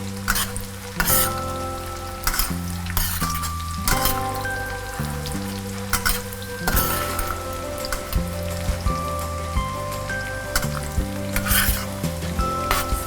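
Food fries in used meat-frying oil with garlic, a steady close crackling sizzle with sharp spatters and stirring clatter, while a sustained musical backing runs underneath.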